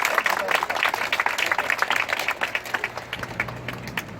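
At an outdoor protest rally over unfair disciplinary action at a school, a crowd claps to welcome a speaker, with loud, uneven applause that gradually thins and fades over a low background hum.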